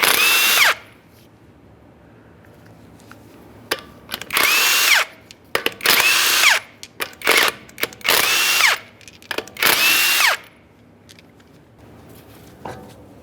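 A power tool spins off the 19mm lug nuts from a wheel of a 2013-2020 Ford Fusion, heard as roughly six or seven loud, close whirring bursts separated by short pauses, with no talking.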